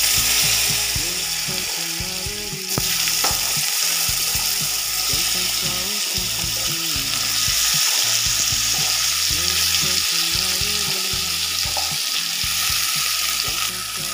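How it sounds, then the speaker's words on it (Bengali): Potatoes fry in a pan with a steady, dense sizzle and crackle, punctuated by scraping, clicking stirs, close and loud throughout with no talking. "এটা খুব ভালো করে আলুগুলোকে ভাজতে হবে"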